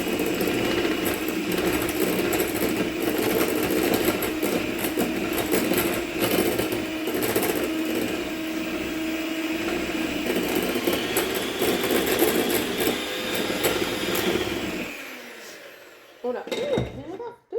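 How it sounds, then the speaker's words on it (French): Stand mixer whisking pancake batter for blueberry pancakes, a loud steady motor whir with rattling beater noise running without a break, then it stops and a few clatters follow. "Et on va touiller. Moi, je fais au robot"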